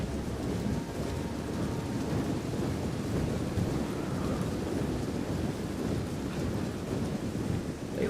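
Rain and rolling thunder in the video game Total War: Rome 2, a dense, steady downpour with low rumbling throughout, alone with no talk.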